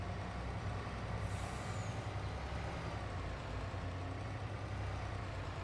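A truck in Farming Simulator 22 drives along with a steady low engine drone and a brief air-brake hiss near the start, faint and constant with no talk.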